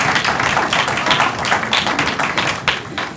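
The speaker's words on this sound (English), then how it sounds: "So can we give them a round of applause?" An audience claps for a jazz trio of piano, bass and drums at a university lecture event, with close, loud and busy applause that holds steady before it thins slightly at the end.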